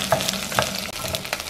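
Chiles fry in a pan for an oxtail and chilacayote squash stew. A close, busy sizzle runs under scraping stirring strokes, with a brief dip in the middle.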